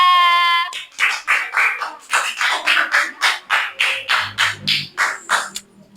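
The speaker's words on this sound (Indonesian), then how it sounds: "Tepuk tangan untuk Airul dan Rasya" Schoolchildren in a classroom clap in a rhythmic, evenly spaced series of about fifteen loud beats for two classmates, close up, after a held sung tone at the start.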